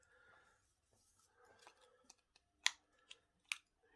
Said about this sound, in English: I'm going to snip that now.